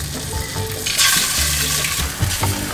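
Eggs frying in a pan inside a van, a loud close sizzle with bursts of crackling and spatula scrapes, steady throughout with no one talking.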